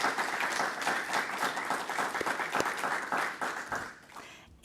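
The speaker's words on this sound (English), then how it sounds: "we should give them a round of applause" An audience at a South Asia fellowship symposium gives a round of applause, a thick wash of many hands clapping together that holds steady, then cuts off abruptly at the end.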